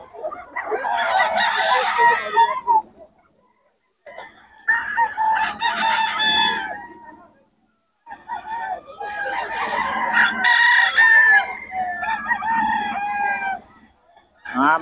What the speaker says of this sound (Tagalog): Mga manok ni Boss Jun, FB mga boss.